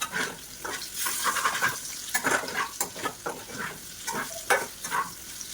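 Vegetable curry frying in a pan while being stirred, with a soft sizzle beneath irregular close scrapes and clacks of the spoon against the pan, alone without speech.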